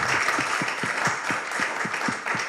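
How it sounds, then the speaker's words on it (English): An audience applauds for a man's 80th birthday, a full, steady roar of clapping with a recurring rhythmic clap near the front. "Can we give him a round of applause?"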